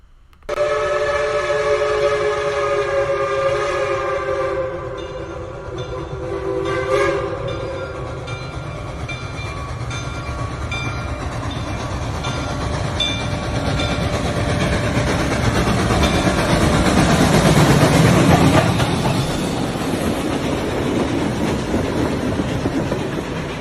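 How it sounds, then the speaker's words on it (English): A train horn sounds early on, then a rumbling train passes, its clatter swelling to a loud peak before easing slightly. "I have footage of this train in real life"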